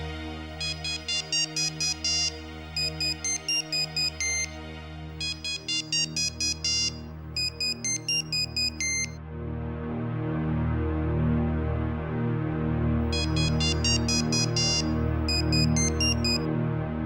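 An outgoing phone call rings repeatedly in short patterned bursts of tones with gaps between them, while a loud, sustained musical drone swells beneath and continues through the later bursts.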